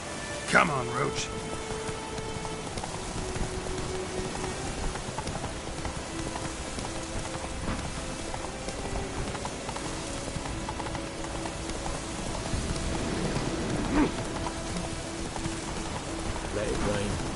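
Rain falling in The Witcher 3 while riding the horse Roach, a steady hiss throughout with hooves clip-clopping beneath and a voice speaking over it.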